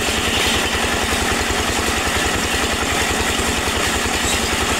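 Engine-driven clay extruding machine pressing red clay into brick shapes at a brickworks in Parungpanjang, a loud steady chugging drone with rapid regular pulses and no voices.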